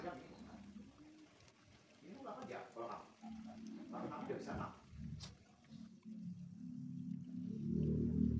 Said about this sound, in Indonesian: Kita goreng bolak-balik.